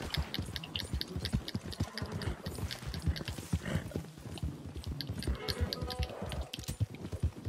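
Rapid clip-clop of horse hooves in Red Dead, steady and busy, with overlapping clatter and background noise throughout.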